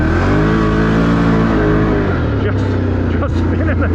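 An ATV engine revs hard and close while its tires spin, holding a loud, rough roar for about two seconds before dropping away into lower, uneven engine noise.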